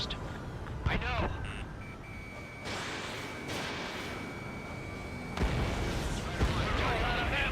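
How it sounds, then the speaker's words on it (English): Enemy gunfire in Ace Combat 7 during a Lost Kingdom mission, heard as scattered thuds and booms under continuous dialogue and a tone, with some sharper cracks. "They already are firing on us."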